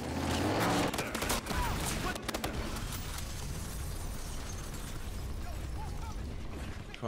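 Dense gunfire from the video game Battlefield Hardline, a loud, continuous fusillade of overlapping shots and bursts with sharp cracks throughout, with a player talking at moments over the shooting.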